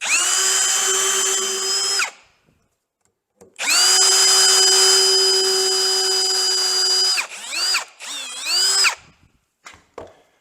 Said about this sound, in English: I'll first using a centering drill bit to make a pilot hole